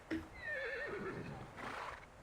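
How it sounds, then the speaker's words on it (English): A horse gives one drawn-out whinny, rising and wavering, close and clear, with faint clopping of hooves underneath. "Horse noises."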